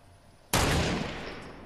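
A single sharp gunshot blast aimed at the player in Fortnite, striking suddenly and loudly after near silence, then trailing off in a long, noisy decay.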